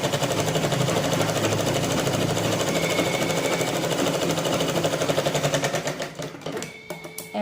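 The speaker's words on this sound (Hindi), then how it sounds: "अब मैं यहाँ पे सिलाई लगा लूँगी इस तरह से।" An electric sewing machine stitches fabric for a blouse, a fast, steady mechanical whirring rattle running continuously and close up, slowing and stopping near the end.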